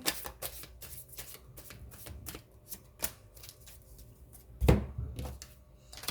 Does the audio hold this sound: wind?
no